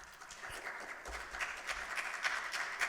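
Applause from the audience at a city council meeting, a soft, distant patter of many hands clapping steadily for a few seconds with no talk over it.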